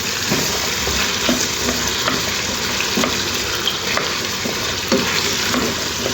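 Potatoes sizzle steadily in a pan for a Tamil-style potato poriyal with Kashmiri chilli powder, while a spoon scrapes and stirs through them in regular, close strokes under the constant frying hiss.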